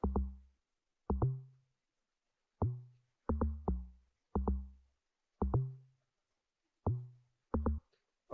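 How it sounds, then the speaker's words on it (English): Deep, punchy amapiano log drum hits programmed in FL Studio play alone in a syncopated pattern, some struck singly and some in quick doubles, each with a short booming decay. "so the log drum, I played it in another way"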